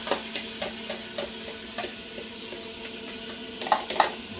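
A stick of butter sizzles in a pan for fettuccine Alfredo while being stirred, a steady frying hiss with periodic soft scrapes and taps of the utensil, close and continuous, with no talking.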